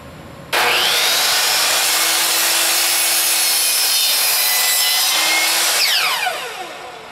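Steady, continuous power sanding of a small wooden piece for an R2-D2 rear logic display surround, running loud and close for several seconds before winding down.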